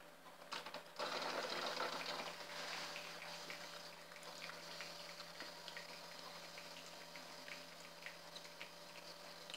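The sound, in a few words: Tassimo Fidelia coffee machine dispensing hot water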